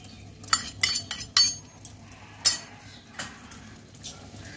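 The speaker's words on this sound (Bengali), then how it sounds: "এবার আমি সবশেষে এখানে স্যাফরন দেওয়া দুধটা দিয়ে দেব।" Milk steeped with saffron goes into chicken chaap cooking in a pan; a handful of sharp spoon-on-metal clinks and scrapes stand out at intervals over a low steady sizzle, close and moderately loud, with no talking.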